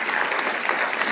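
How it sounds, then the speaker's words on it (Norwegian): Crowd at a climate conference in Viken applauds, a brief, dense wash of many hands clapping at once. "Gina, en god applaus."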